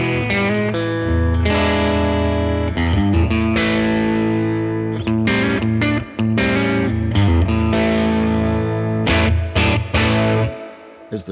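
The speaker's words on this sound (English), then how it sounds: "There's the reverb. That's lovely spread." Electric guitar played through a Tone King Imperial preamp pedal with its reverb engaged, loud strummed chords and picked notes ringing out with a wide, spacious tail, and no talk.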